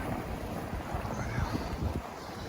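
Wind buffets the rider's microphone on a Biktrix e-bike ride in cold weather, a steady low rushing roar with gusty thumps throughout and no voice.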